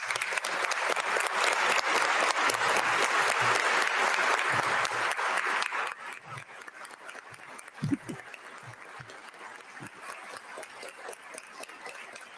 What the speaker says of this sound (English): They should get applause.